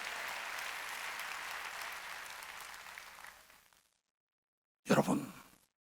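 Congregation applauding during a Korean church Wednesday worship service, a dense broadband wash of clapping from many hands that fades out, then a brief second burst of clapping after a short silence.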